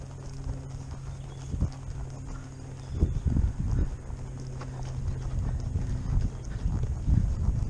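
Horse hooves clip-clop through a British Dressage Intro B practice test, the working trot giving a steady rhythmic beat on the arena surface with a low background hum, strongest in bursts around the middle and end.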